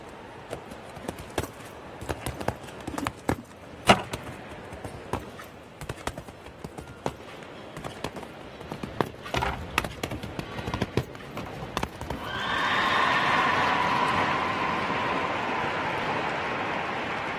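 Horse hooves thud in an irregular galloping rhythm at a distance during a show jumping round, followed by a swelling crowd cheer and applause near the end.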